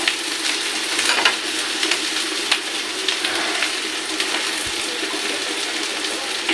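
Food sizzles and crackles steadily as it fries in hot oil in a pan, a dense close hiss with small pops and occasional stirring and no speech.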